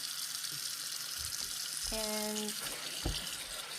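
A kitchen tap runs cold water to rinse pieces of salt cod, a steady hiss of flowing water throughout, with a brief spoken word and faint household voices in the background.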